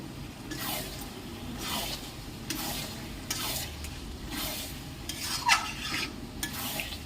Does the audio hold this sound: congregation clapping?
no